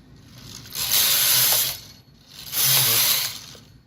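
A Brother KH 910 knitting machine carriage is pushed across two rows in turn, each pass a loud, close, sustained mechanical rasp and whoosh lasting about a second, separated by a short quiet gap.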